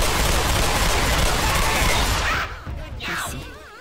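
Dense, continuous gunfire from Left 4 Dead 2 fills most of the stretch, loud and sustained, then cuts off abruptly into quieter scattered game sounds near the end.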